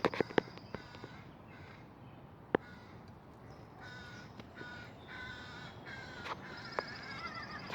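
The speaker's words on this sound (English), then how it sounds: "The crows are getting busy." A family of crows calls from tall fir trees above a finished garden, with repeated harsh caws at varying distances, some close and loud, others farther off, over a quiet outdoor background with occasional faint footsteps.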